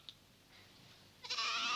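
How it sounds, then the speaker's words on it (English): A baby goat gives a short, bright bleat near the end, fairly close, after a near-silent stretch with a faint tick at the start. "It's a goat. Come on now. A little baby goat."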